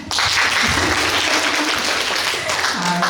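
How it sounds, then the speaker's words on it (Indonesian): Students at a university public lecture break into loud, dense applause that fills the room evenly and holds steady for a few seconds before easing slightly. "Tepuk tangan."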